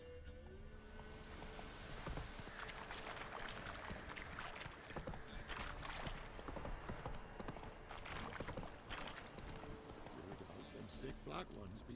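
Hooves of Roach, the horse in The Witcher 3 game, clip-clop in a steady trotting rhythm, fairly quiet, with occasional game sounds and voices mixed in around them.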